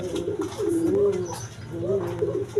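Large pigeons kept for sale with eggs and chicks coo close by, with soft, rolling, repeated calls that overlap continuously.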